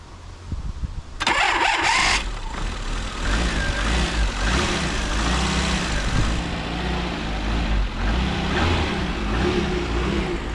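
A Fiat Uno SX car engine cranks briefly, catches and settles into a steady, smooth idle, close and even throughout.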